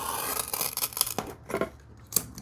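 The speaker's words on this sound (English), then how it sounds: "my blade's starting to sound a little crunchy" A craft blade drags through foam core board with a rough, crunchy scraping, cutting in several short uneven strokes close up, with brief pauses between passes and no talking.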